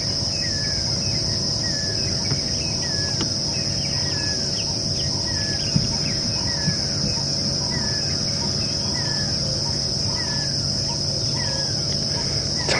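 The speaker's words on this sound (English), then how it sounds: "Tiny little owlet calling." Pearl-spotted owlet calling at dusk on a safari drive in a South African game reserve, a repeated series of short faint whistled notes rising through a steady bed of loud cricket and insect chirring, with no talk.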